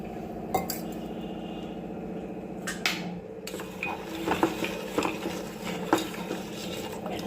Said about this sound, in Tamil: வெள்ளம் கரைகிறது வரையும் கிண்டி விட்டுட்டே இருங்க